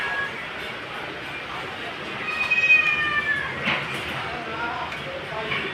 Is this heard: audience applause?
no